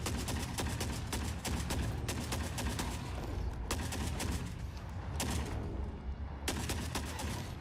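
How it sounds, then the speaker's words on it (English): Sniper rifle fire in the video game Forever Winter: dense, continuous volleys of loud gunshots with repeated sharp cracks over a rumbling battlefield backdrop, no talking. "Oh, those are snipers, those are snipers."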